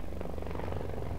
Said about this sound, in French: C'est un hélico.